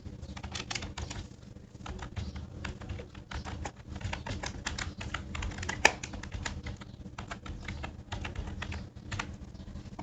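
Typing on a computer keyboard while writing HTML headings in a code editor: a steady, fairly close stream of quick key clicks, uneven in rhythm, with one sharper tap partway through and a faint room hum underneath.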